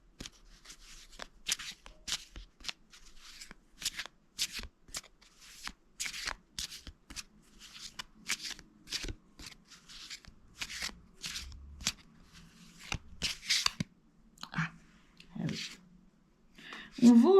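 A pack of Harry Potter trading cards is shuffled up close: a long run of crisp, papery riffles and flicks in quick irregular bursts, with a few soft handling bumps between them.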